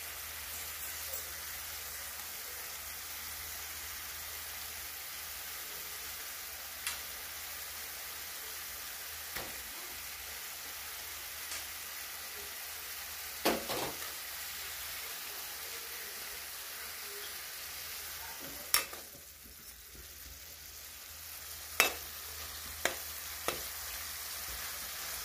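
Vegetable pieces frying in a pan over a full high flame give a faint, steady hiss. Occasional soft clicks and taps stand out as pieces drop in one at a time.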